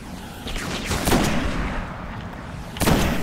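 Gunfire in the video game Destiny, a burst of rapid shots followed by another sharp volley near the end, loud and close, with no talk.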